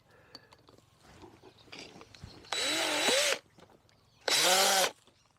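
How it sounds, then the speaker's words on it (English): A power drill drives a fixing into wood on an allotment, in two loud sustained bursts of whirring with rising and falling pitch, separated by quieter handling noises and no speech. "Get the drill going the right way around really helps."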